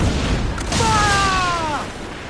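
A single heavy ship cannon boom roars from a sailing warship in Assassin's Creed naval combat, loud and close, followed by a falling whistle and a decaying rumble over sea noise.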